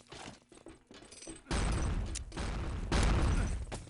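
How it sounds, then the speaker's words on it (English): Grenades blow up in a 6-on-6 Enemy Territory tournament match. Scattered light gunfire gives way to a loud, sustained roar of close explosions, with two more heavy blasts swelling on top near the end. "Nades in from this lower area."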